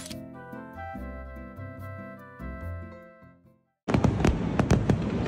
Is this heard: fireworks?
yes